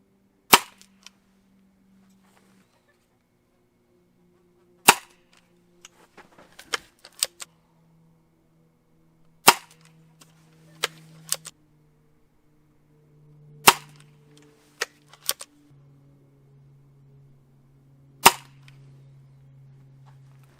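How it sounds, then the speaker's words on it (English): A Benjamin Trail NP air pistol fires Crosman 7.4 grain pellets, five sharp, close cracks spaced several seconds apart, with small clicks and handling noises in between and a faint hum under the quiet gaps. "let's shoot 5 pellets over the chrony and see what we get here."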